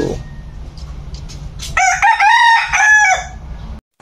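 A red rooster crows once, loud and close, a single drawn-out cock-a-doodle-doo after a quiet stretch of faint background noise.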